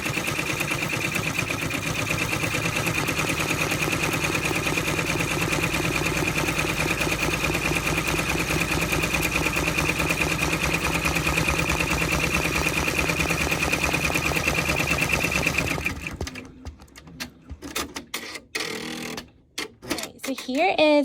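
A sewing machine sped up to about 600 stitches vinyl with glitter confetti in a rapid, even mechanical whir and chatter that runs loud and close for around fifteen seconds, then stops, leaving quieter handling noises.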